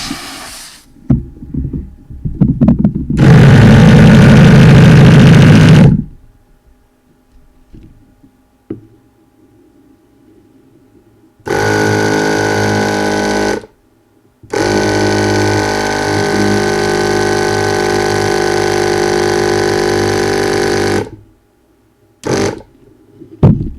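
An electric pump inflates a HiBoy X300 e-scooter's front tire toward 40 psi, running in loud steady bursts of droning hum, several seconds each, separated by pauses and small handling noises.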